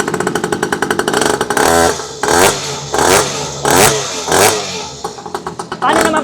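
A 49cc two-stroke mini pocket bike engine idles with a rapid putter, then revs loudly in several sharp, repeated bursts before settling back to a rattling idle, close by.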